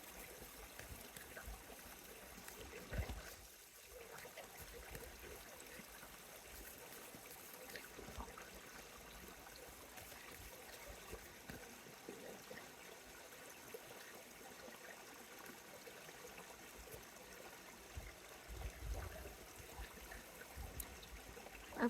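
Gentle outdoor stream trickling steadily over water, a soft continuous wash of flowing water with no talking.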